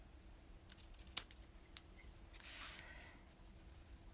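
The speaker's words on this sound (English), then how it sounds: "With my handy dandy paper snips." Paper snips trimming a strip of ribbon, giving one sharp close snip followed by a softer drawn-out cut, set against a quiet room.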